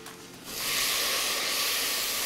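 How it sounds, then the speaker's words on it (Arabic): Potatoes, onion, celery and leek for a potato and chicken cream soup sizzle in a pot, swelling after half a second into a loud, steady frying hiss that fills the rest of the moment, with no talk. "البطاطس بصل وكرفس وكرات تشوحوا مع بعض"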